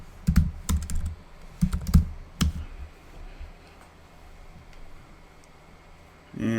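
Short bursts of clacky keystrokes on a computer keyboard, several quick clusters of taps close by, followed by quiet room tone and a brief louder noise at the end.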